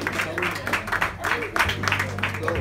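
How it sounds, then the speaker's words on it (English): An audience at a church award ceremony claps for the children, brief bursts of applause mixed under a preacher's loud, rhythmic voice calling out over them. "Clap for them. Clap for them."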